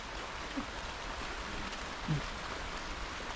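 Steady light rain falling outdoors at a site where a concrete post is being poured, a faint, even hiss with a couple of soft knocks and no talking.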